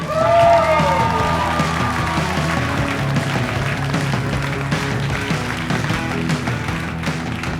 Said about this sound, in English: How about a big round of applause for Justin Dawley?